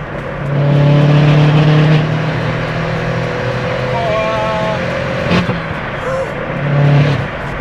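An Opel Corsa OPC car engine, tuned to 250 horsepower, drones and revs in steady surges, loud and close, with the hum of the cabin and a brief clatter partway through.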